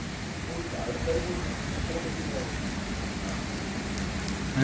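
Steady hiss of rain falling on surfaces, even and continuous throughout, with no voices over it.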